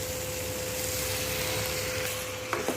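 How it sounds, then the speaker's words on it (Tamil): Beetroot being stirred as it fries in a pan gives a steady, soft sizzle with faint scraping, continuous and close, ending in a couple of small knocks. "இதையும் நல்லா கிளறி விட்டுடலாம்"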